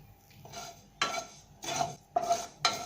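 Sesame seeds roast in a pan over a low flame, stirred in five short scraping strokes spaced about half a second apart, close and fairly quiet.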